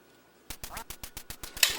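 Ducks quack in the Duck Hunt video game, a quick regular run of about nine sharp, buzzy quacks ending in a brighter burst, with no talking over them.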